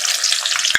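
Onions sputter in hot oil with a dense, bright crackle, close and loud, ending in one small pop of a spatula touch.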